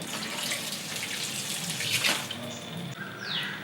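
Water surges and splashes through a homemade ram pump pipe, its momentum slamming back against the valve, giving a gushing, tap-like rush with a brief sharper knock near the middle, close up and without speech.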